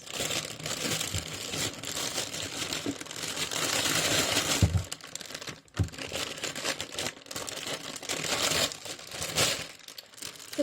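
Packaging crinkles and rustles continuously as it is handled up close, with occasional sharper crackles and brief pauses.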